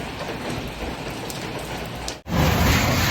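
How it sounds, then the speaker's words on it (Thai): Steady, heavy rain pours down in a continuous hiss, with a brief dropout near the end before the downpour resumes, louder and fuller. "ขณะนี้ก็เป็นเวลาบ่ายสองโมงแล้วครับฝนก็ยังตกอยู่เหมือนเดิมนะครับผม"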